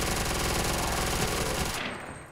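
Rapid machine-gun fire in a Call of Duty custom zombies space tower-defence game rattles out as a loud, continuous burst, then cuts off and leaves a short fading tail.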